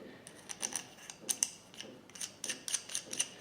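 Small metallic clicks and scrapes from unscrewing the end of an aluminium tobacco pipe with a briar bowl, a quiet irregular series of close ticks and grinding turns over about three seconds.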